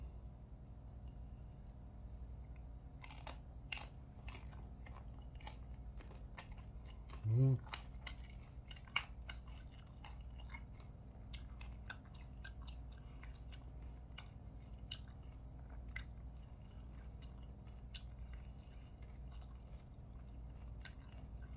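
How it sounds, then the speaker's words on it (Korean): Soft, close chewing and crunching of chili pepper eaten with spicy bibim ramen noodles, heard as scattered faint clicks and bites over a quiet room hum, with a brief voice partway through. "이렇게 비빔면에다가 제가 고추하고 같이 먹어보도록 하겠습니다"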